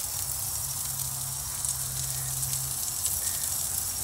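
A salt-and-peppered bone-in Angus ribeye steak sizzles steadily over an open grill flame, a continuous bright hiss with crackling fat, loud and close, with no talking.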